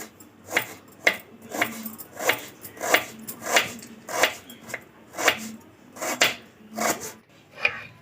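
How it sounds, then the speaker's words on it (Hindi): Onions are chopped with a knife on a cutting board, the blade striking in a regular rhythm of about a dozen crisp, close knocks spaced roughly half a second apart. "सबसे पहले मैं प्याज काटने लगी हूँ अपने कटिंग बोर्ड पे"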